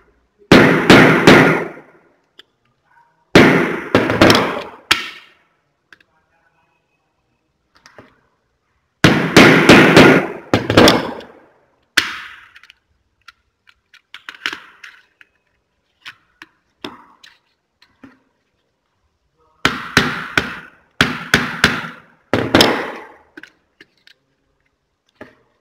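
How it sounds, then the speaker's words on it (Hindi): A hammer strikes a poker set into an MCB circuit breaker to force it open, landing in several clusters of sharp, loud metallic knocks with quiet gaps between them. "हम जब इसको हथौड़ी की मदद से ठोकते हैं तो ये बाहर की ओर आ जाता है।"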